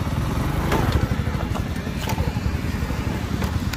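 A motorcycle rides along a badly broken rough road, its engine running steadily close up with bumps and rattles, and a voice is heard faintly over the engine at moments.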